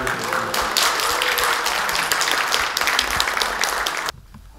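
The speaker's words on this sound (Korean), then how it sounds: "박수 한번 보내주세요" A large audience at a training lecture for local council members gives sustained, dense applause that continues steadily before cutting off abruptly near the end.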